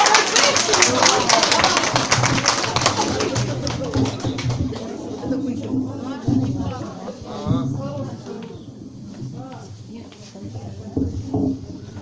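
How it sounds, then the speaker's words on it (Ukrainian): An audience claps at an International Women's Day concert in a psychoneurological care home in Khodorkiv, Ukraine. The dense applause fills the first few seconds, then thins and fades under voices and background chatter. "Зустрічайте оплесками"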